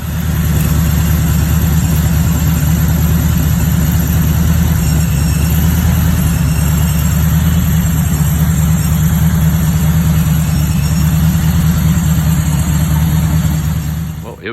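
A Godzilla 7.3 V8 running in a Mercury Marauder, a steady loud close rumble holding at an even idle throughout with no pauses, dense low-end drone and no voices.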